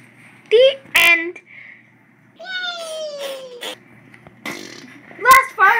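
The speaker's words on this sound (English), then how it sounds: "No dancing, just farting" Several short, loud fart noises mixed with squeaky, meow-like vocal sounds, close up, with brief quiet gaps between bursts.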